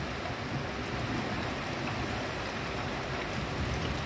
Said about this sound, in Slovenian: odmev toče, ko pade na tla